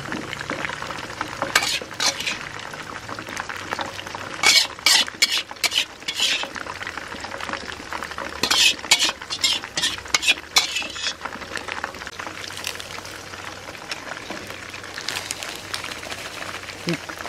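Ingredients for bebek bihun stir-fried in a pan, with steady sizzling and repeated sharp metal spatula scrapes and clinks against the pan in bursts, while a person talks at times.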